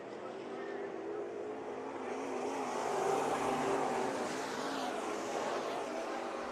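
Dirt track race cars in a heat race at Bakersfield Speedway's Budweiser Nationals roar into turn one, a dense, sustained engine drone heard from a distance that swells slightly as the cars battle side by side.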